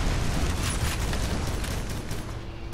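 A ship takes a hit in a Battleship naval combat game, the explosion swelling into a dense, rumbling roar with scattered crackling bursts that fade slowly over a few seconds.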